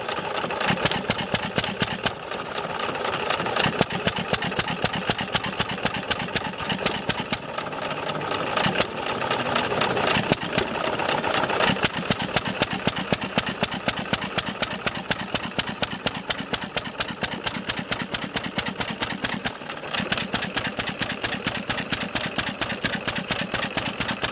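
Upright 1920s Novo 3 hp Model S hit-and-miss engine running at around 350 RPM, a steady close chuffing beat with periodic firing bursts and brief lulls, needing some fine-tuning.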